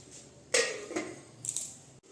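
A lid goes onto a pot of chicken simmering in a little water, making two or three faint metallic clinks and a soft clatter close by over low background noise, no voices.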